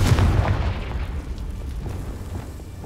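A Confringo fire spell detonating in Hogwarts Legacy, a heavy booming blast at the start that decays into a rumbling, crackling tail and fades over a few seconds.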